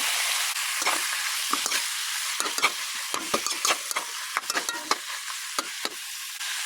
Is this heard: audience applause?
no